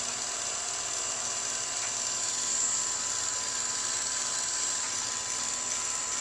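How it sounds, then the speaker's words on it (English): A heat gun runs steadily close up, a continuous bright whining blower hiss held at an even level throughout while it melts embossing powder on a metal bookplate. "It's my heat gun of preference"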